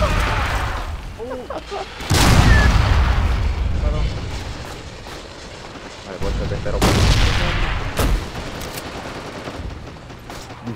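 Gunfire and heavy blasts in the Battlefield 2 mod Forgotten Hope 2 on the Pointe du Hoc map hit in loud bursts with booming impacts and rumbling echoes, while players talk over the battle.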